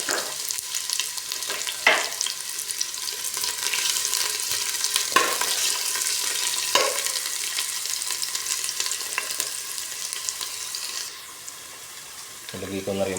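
Ginger and onion sizzle steadily in a hot pan for squid adobo with lemongrass, a continuous frying hiss broken by a few sharp clatters of stirring, then quieting near the end.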